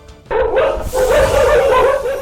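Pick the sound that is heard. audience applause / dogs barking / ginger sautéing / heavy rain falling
dogs barking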